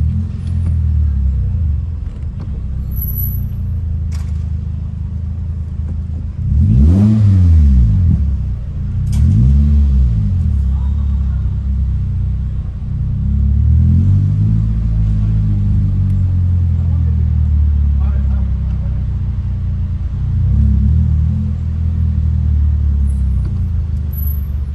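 Car driving through Alicante city centre, a loud low rumble of the engine and road from inside, swelling as it accelerates and easing off between pulls, with no speech.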